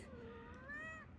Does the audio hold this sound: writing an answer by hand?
no